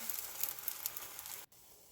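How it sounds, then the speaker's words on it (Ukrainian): Quiet, steady sizzling of liver pancakes frying in a pan, with a brief break before the faint hiss resumes. "Смажимо печінкові млинці. Обсмажувати з двох сторін."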